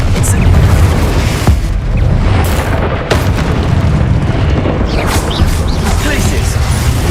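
Confringo explosive spell blasts go off in the video game Hogwarts Legacy, loud booming bursts over rumbling game effects, with a voice speaking over the action.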